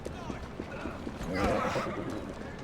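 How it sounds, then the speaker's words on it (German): A horse in the video game Assassin's Creed Syndicate clops and whinnies. Someone speaks German over the game sounds. "Dummes Pferd, ey."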